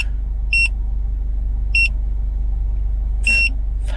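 An OBD2 head-up display speed and boost gauge sounds three short, spaced electronic beeps from its buzzer. A low steady rumble from a car runs underneath, and no one speaks.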